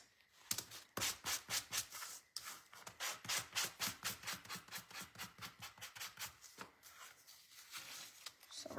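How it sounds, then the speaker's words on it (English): A small wooden craft piece for a summer ducks tiered tray is sanded by hand in quick, rhythmic back-and-forth rasping strokes, close and fairly loud, with brief pauses between runs. "Let me go ahead and sand this."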